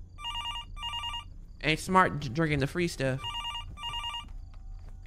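An old-style telephone bell rings in bursts in a horror video game, two double-rings at the start and two more after someone speaks briefly over the middle.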